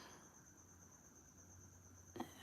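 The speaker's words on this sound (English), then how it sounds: "I don't know if you can hear those crickets" Crickets chirp faintly as a thin, steady high trill in a quiet room during a crochet session, with no voices and a small soft bump near the end.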